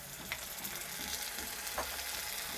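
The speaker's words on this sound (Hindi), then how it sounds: "इसके अंदर हम ऐड कर देंगे चिकन जो वॉश किया हुआ है" Washed chicken pieces sizzling in a pan of sautéed onions, a steady, close frying hiss with faint clinks of stirring, no voices.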